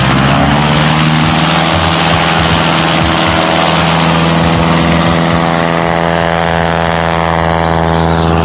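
A Super Cub tricycle gear airplane's propeller engine drones loud and steady at a short field contest fly-in, a continuous close roar with a stable pitch throughout.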